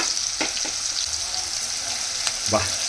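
Chopped onions and curry leaves fry in hot oil in a pan with a loud, continuous crackling sizzle, plus two or three sharp scraping stirs near the start and end.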